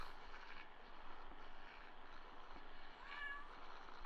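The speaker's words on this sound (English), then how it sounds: "He meowed at you, bro." A faint cat meow from the video game Kentucky Route Zero sounds briefly over a steady low droning background, quiet and far off.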